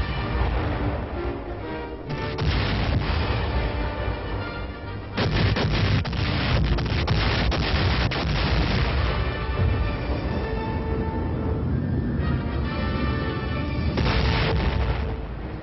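Heavy naval guns and air strikes pound Okinawa in 1945 in a dense, continuous barrage. Loud booms and blasts overlap with little pause, and the noise drops briefly between heavier volleys.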